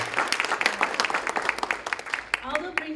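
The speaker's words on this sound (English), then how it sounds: "let's give us another round of applause" An audience at a state of the city event applauds with dense, lively clapping that continues steadily throughout.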